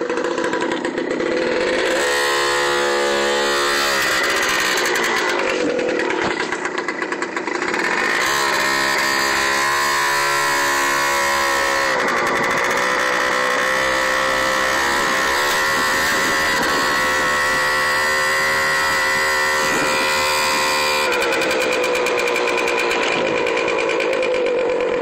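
An Adly Fox 50 scooter engine on a ride, loud and close throughout, its two-stroke-style buzz rising and falling as the throttle opens and eases, with steady revving that shifts pitch several times.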